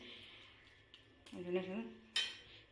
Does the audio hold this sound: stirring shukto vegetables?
yes